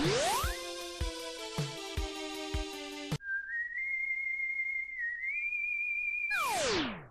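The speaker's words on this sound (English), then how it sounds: "I never get tired of listening to that whistle." Proto Man's whistle tune in the Mega Man 7 video game, a clear melodic whistle line following a burst of chiptune music and ending in a descending sweep.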